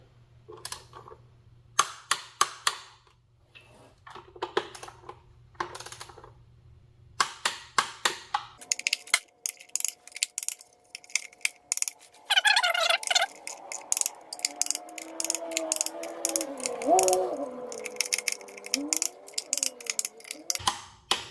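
Ratchet wrench tightening the intake manifold bolts on an Audi 3.2L engine, in quick bursts of sharp metallic clicks that stop and restart, with someone speaking now and then.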